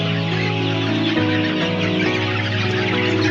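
Chickens of the Gavran, DP Cross and Kaveri breeds clucking steadily and loudly in a ventilated, well-lit poultry shed, many birds overlapping in a dense continuous chorus with no talk.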